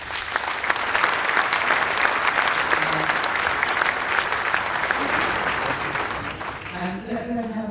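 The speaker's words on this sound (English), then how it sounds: "Ladies and gentlemen, give them a round of applause." An audience applauds a debate panel at an innovation debate, giving sustained, dense clapping from a large crowd that runs nearly eight seconds before a voice begins speaking as it fades.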